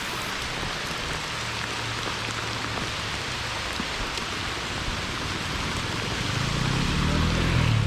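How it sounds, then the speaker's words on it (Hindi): Rain falling steadily during a motorcycle ride to the Agumbe area, a constant even hiss of drops with a low rumble swelling near the end. "और अचानक से शुरू हो गई बारिश।"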